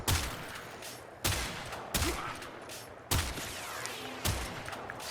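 In the video game Warframe, the Prisma Grinlock rifle fires five loud, sharp shots at uneven intervals, each followed by a short ringing tail.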